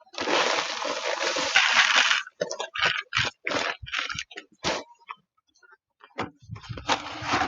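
Freshly mixed concrete dumped into a hole, heard as a long wet slosh and splatter followed by a run of short, sharp splats and squelches, then a pause and a few more soft wet slaps.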